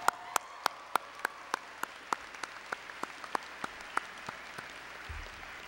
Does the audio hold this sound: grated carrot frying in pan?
no